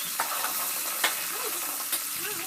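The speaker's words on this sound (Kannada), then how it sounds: "ಇವಾಗ ನೋಡಿ ನಾನು ಹಸಿಮೆಣ್ಸಿಕಾಯಿ ಹಾಕಿ ಮಿಕ್ಸ್ ಮಾಡ್ತಾಯಿದ್ದೀನಿ ನೋಡಿ" Green chillies sizzle in hot oil with cumin and mustard seeds while a spoon stirs them, a steady crackling hiss with a few sharp pops and soft scraping strokes.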